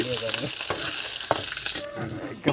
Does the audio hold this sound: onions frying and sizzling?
yes